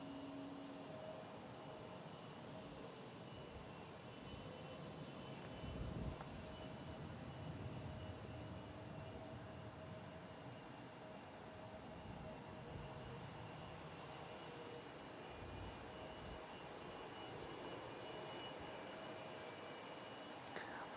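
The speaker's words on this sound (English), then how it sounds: "I love how the engine sounds on the 757." Boeing 757 jet engines at San Francisco International Airport give off a faint, steady distant drone with a thin whine, continuous for about twenty seconds.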